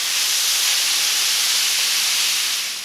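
Diced meat sizzling on a hot griddle at an enchilada cooking demo, a loud, steady hiss filling the whole stretch with no talking.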